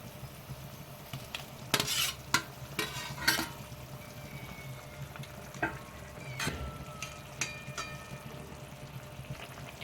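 Fried eggplant pieces tumble into a pan of cooked-down spice masala for a fish curry and are stirred in, giving a few sharp clattering scrapes near the start, then a quieter steady sizzle with occasional utensil knocks.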